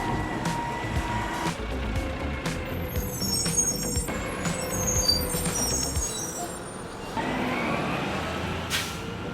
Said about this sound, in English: getting absolutely harassed by garbage trucks